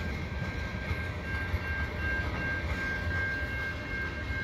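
A CN transfer freight train rolls past on a rainy evening at Des Courcelles Street, a steady, continuous rumble of wheels and cars with a thin high whine running throughout and no voices.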